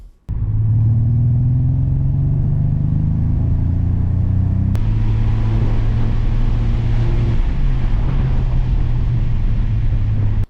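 A Honda VTEC engine strains through a full dyno pull, a loud steady rumble of rising revs with a brief break in pitch midway, close and unbroken with no talk.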